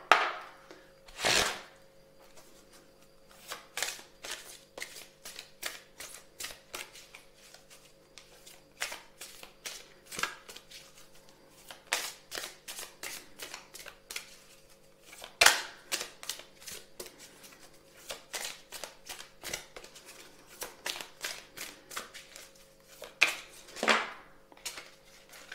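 Oracle cards from a sacred traveler deck are shuffled by hand, producing repeated crisp riffles and soft slaps in bursts with short pauses, close and clear in a quiet room.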